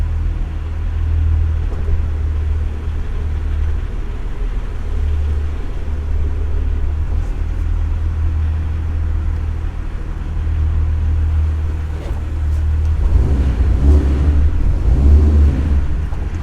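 A Jeep TJ rolls slowly along, driven on the clutch, its steady low engine rumble holding close and even before swelling slightly louder near the end.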